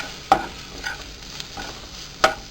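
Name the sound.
stirring potato with cumin and turmeric powder in pan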